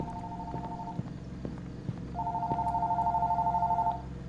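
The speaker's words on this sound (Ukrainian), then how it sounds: "Хто дзвонить мені в такий час ночі?" A telephone rings late at night in the horror game Fears to Fathom, two electronic ring bursts separated by a pause, with light footstep-like taps underneath.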